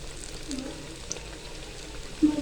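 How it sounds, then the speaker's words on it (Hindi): Spinach and onion pakoras frying in hot oil, a soft, steady sizzle and crackle with a slightly louder burst of bubbling near the end. "पालक और प्याज के पकौड़े पककर तैयार हो रहे हैं।"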